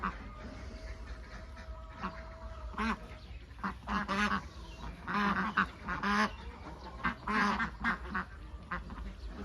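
Two-month-old white Yi Liang laying ducks quack in a pen, a chorus of rough, overlapping calls in irregular bursts at moderate distance over a low background hum.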